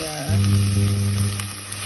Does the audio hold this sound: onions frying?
yes